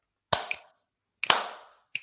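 Slow clap: a few sharp, separate hand claps spaced about a second apart, crisp and close with a short ring after each.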